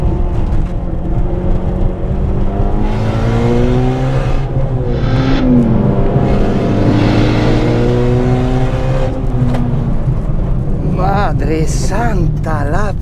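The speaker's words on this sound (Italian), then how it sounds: "in prima marcia ho tirato giù, ho aperto tutto il gas e non si sono attivati" A 600 hp Golf GTI with an external wastegate and all-wheel drive revs hard at full throttle in first gear, a loud sustained engine note rising and falling while people talk over it throughout.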